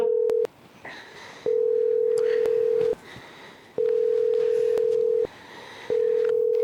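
A telephone line gives a long, steady tone that repeats four times with short gaps between, like a call ringing through.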